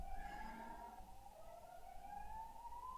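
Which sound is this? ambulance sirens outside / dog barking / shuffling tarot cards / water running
ambulance sirens outside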